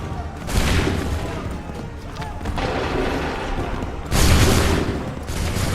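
Musket volleys in Assassin's Creed III: two loud, broad bursts of massed gunfire crack out near the start and again later, with rumbling battle noise in between and shouted orders mixed in.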